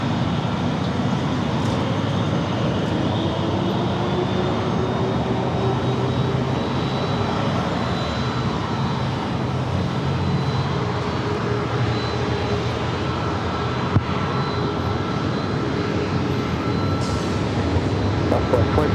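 Airliner at San Diego airport, with an Airbus A321neo lining up for takeoff: a loud, steady engine roar and broad rumble holds evenly throughout, continuous and unbroken with no talk.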